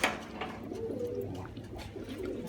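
Armenian fighting pigeons cooing in strong wind, a few low throaty coos rising and falling close by over steady wind noise.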